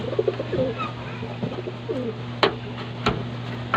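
Soft pigeon coos repeat through the clip over a steady low hum, with a couple of sharp clicks or taps near the end.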